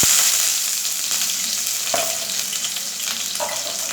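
Chopped onions fry in hot oil in a pan for a Rayalaseema country chicken curry, a loud close sizzle that settles into steady crackling, with a few light stirring taps.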